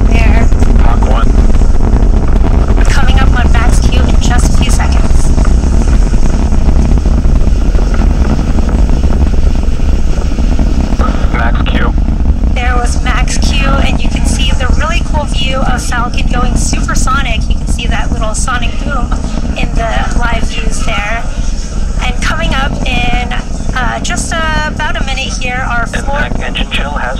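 A SpaceX Falcon 9 rocket's nine Merlin first-stage engines roar steadily and loud through its ascent past max Q and Mach 1, a dense continuous rumble with crackle, while commentary voices talk over it throughout.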